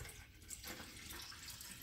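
Water poured into the plastic reservoir of a Hamilton Beach espresso maker, a soft continuous trickling splash, faint and close with no talk.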